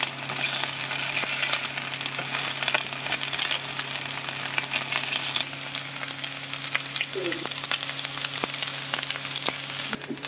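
Rice frying in very hot oil in a pan, a steady bright sizzle with faint crackles running throughout, close and continuous, no voices.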